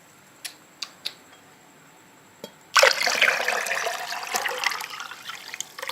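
Water is poured out in a sudden loud rush that keeps splashing and trickling for several seconds, after a few sharp clicks and taps, close by with no talk.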